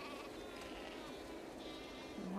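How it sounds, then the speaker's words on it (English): Sheep on a farm in the video game The Last of Us Part II give a steady bleating chorus mixed with insect-like buzzing, soft and continuous, without speech. "We definitely have way too many sheep."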